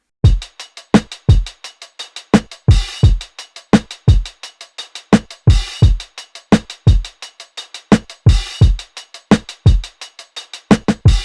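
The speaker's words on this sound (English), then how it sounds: "which is the kick, snare, and hi-hat loop." A boom bap drum beat plays loud and alone, with punchy kick drums, cracking snares and a chopped hi-hat loop ticking between them in a steady repeating pattern.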